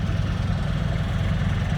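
A turbocharged Nissan engine with an F55 turbo and aftermarket exhaust idles close by with a deep, rumbling exhaust burble, steady and loud throughout.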